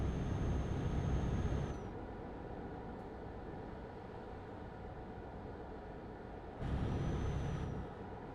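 A Scania truck pulling a full 40-tonne load strains in a low, steady engine drone heard from a distance. The rumble swells louder briefly at the start and again near the end, with no speech.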